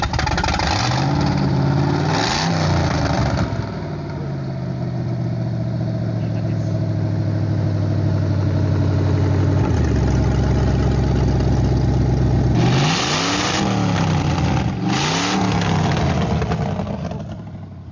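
Jeep TJ fitted with an LS V8 engine, loud close idle with a deep steady burble, broken by several sharp revs near the start and again toward the end, no voices over it.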